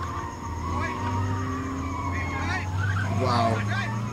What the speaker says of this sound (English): That is actually called drifting, man.